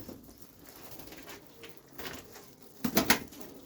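An Arab breed pigeon coos inside a clay earthen nesting loft, soft murmuring calls building to a louder burst near the end against a quiet background.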